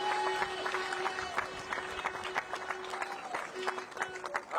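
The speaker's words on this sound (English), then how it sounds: "can I give them a big round of applause there?" A crowd claps and cheers at a county senior football championship final presentation, with steady applause filling the space and a voice sounding faintly over it.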